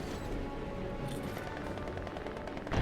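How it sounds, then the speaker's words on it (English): Gunfire from troops in the Company of Heroes 2 strategy game, dense rattling machine-gun and rifle bursts running continuously, ending in a louder sharp burst. "They start shooting at me, so I'm going to have to... So they're just blind firing"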